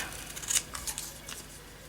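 Scissors cut through magazine paper in a few quick, close snips, with one sharper crisp cut in the middle, with no voices.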